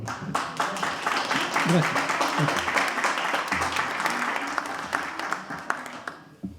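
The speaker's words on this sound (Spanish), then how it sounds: "Un aplauso, por favor." Audience at a book presentation in Castro breaks into warm applause, a dense run of clapping that fades out near the end, while a speaker briefly offers thanks over it.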